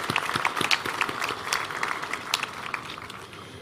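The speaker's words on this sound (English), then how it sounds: "I think he deserves a round of applause" Graduation audience at Machakos University applauding, a steady wash of many hands clapping at moderate loudness with scattered sharper claps, no talk over it.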